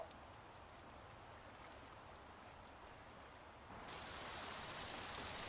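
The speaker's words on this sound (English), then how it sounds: "And it's raining." Rain falling in the video game Rising World, a soft steady patter of drops that suddenly grows louder and denser near the end, with no talking.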